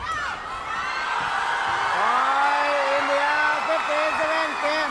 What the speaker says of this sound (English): the crowd will erupt in joy here at the Patliputra Indoor Stadium